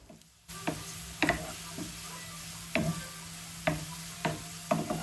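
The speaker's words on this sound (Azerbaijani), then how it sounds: "Soğanı biraz kızarttıktan sonra sudan çıxartdığım ətlərimi soğana əlavə edirəm." Meat and onions fry in oil in a pan with a quiet, steady sizzle, broken by several sharp scrapes and clicks of stirring spaced a second or so apart.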